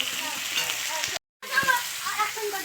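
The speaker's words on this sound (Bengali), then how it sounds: "ফুলকপিটা লবণ হলুদ দিয়ে ভেজে নিবা" Cauliflower pieces frying in a pan with salt and turmeric, giving a close, steady crackling sizzle with a brief cut partway through.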